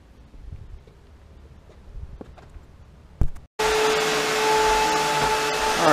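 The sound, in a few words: Eureka vacuum cleaner running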